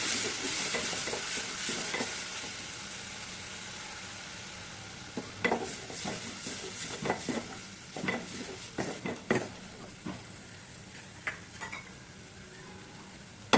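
Chicken liver sizzles in mustard oil while a spoon stirs and scrapes the pan, a constant hiss under irregular clinks and scrapes that grow busier in the second half. No voices.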